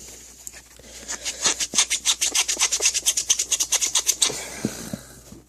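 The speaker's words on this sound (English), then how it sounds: "Now those ones don't seem to work with the magic eraser." A magic eraser scrubs scuffs on plastic trim in quick, steady back-and-forth strokes. The rasping strokes sound close and rhythmic for several seconds, then slow to a few scattered rubs.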